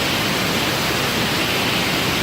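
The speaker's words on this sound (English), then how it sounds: "But this is just a really beautiful waterfall." A waterfall rushes in a dense, unbroken roar of falling water, loud and close, with no voices over it.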